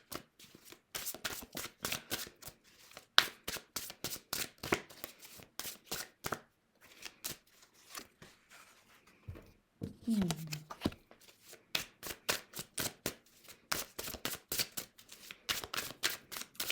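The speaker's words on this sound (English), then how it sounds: "while I shuffle" Tarot cards are shuffled again and again in quick riffling bursts, close up, with short pauses between rounds and a brief sound in the middle.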